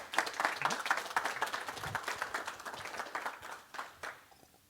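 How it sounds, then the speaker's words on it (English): Audience applause for Vincent Lesiers after his talk on event-driven architecture on AWS at a tech meetup, a dense, steady clapping from a small crowd that gradually thins and tails off. "I would like to give Vincent a round of applause"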